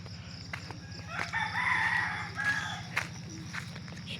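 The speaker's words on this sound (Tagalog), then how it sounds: "Siyempre may manok. Manok namin yun." A rooster crows on a farm in Cagayan Valley, a drawn-out cock-a-doodle-doo rising over a steady low engine-like hum, with a few short clucks and sharp bird sounds scattered around it.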